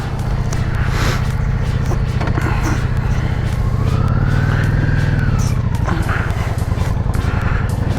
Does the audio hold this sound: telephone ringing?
no